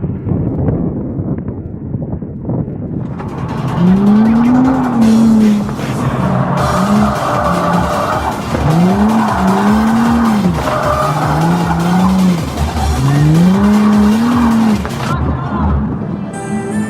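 A G35/350Z car runs an autocross course, its tires squealing in repeated rising and falling bursts over a loud, steady engine roar as it carves through turns.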